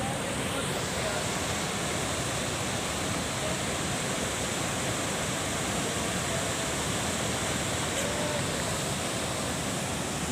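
The stream at Aharbal waterfall in Kashmir rushes steadily and loudly, a dense unbroken roar filling the whole stretch with no voices heard.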